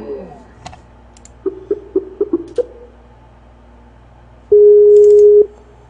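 In the game GTA 5, a few soft clicks, then a rapid series of short beeps, followed by one long steady tone, like a call connecting.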